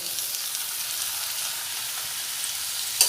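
Chopped tomatoes dropped onto fried onions in a hot pan, a steady bright sizzling hiss at moderate level throughout, ending with a brief utensil clink.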